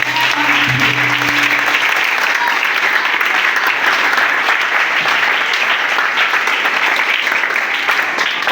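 A church congregation claps loudly and continuously during a deliverance worship service, a dense roar of applause filling the space, with a voice briefly heard at the start.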